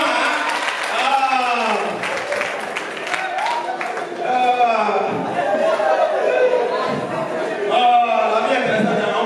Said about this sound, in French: Applaudissez pour ta maman.